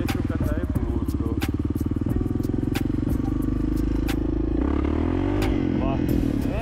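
A close motorcycle engine, an enduro bike being tested, idles and revs with a loud rhythmic throbbing and mechanical clatter, shifting pitch as the throttle changes.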